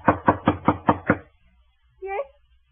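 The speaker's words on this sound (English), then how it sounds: "waiting for a knock that had to come" Six firm, evenly spaced knocks on a door in a 1949 radio drama ring out close and loud, then a brief muffled voice answers after a pause.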